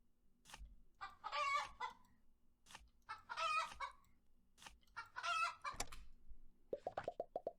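Cartoonish chicken clucks from the Terracards card game, repeated in three clear bursts with short pauses between them, followed by a quick run of small popping plops at the end.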